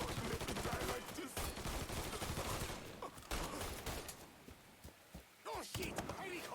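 Gunfire in the crime action game Mafia III: dense, rapid bursts of shots in fast, irregular volleys, loud and close, with shouting voices mixed in, thinning out toward the end.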